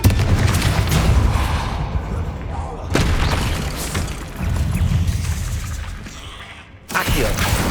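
Confringo blasting spell explosions in Hogwarts Legacy, several sharp booming bursts spaced a few seconds apart over a rumbling game soundscape, loud and near, with talk in between.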